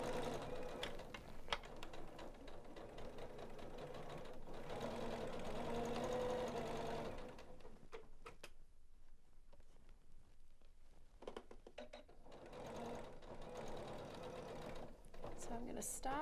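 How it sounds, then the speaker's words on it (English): A Janome sewing machine sews a dress seam at a half-inch allowance, whirring steadily for several seconds, pausing, then starting again close up. "let's sew this together"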